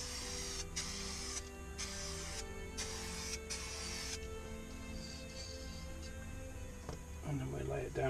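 Aerosol spray paint applied to a caravan wheel, coming in about five short bursts of hiss separated by pauses, close and fairly loud, then stopping, with a faint clatter afterwards.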